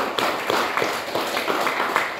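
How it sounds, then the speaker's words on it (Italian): Audience applause at the opening of a literature festival, a dense, even spread of clapping from a crowd, moderately loud and sustained without pause. "io gli dedicherei un applauso"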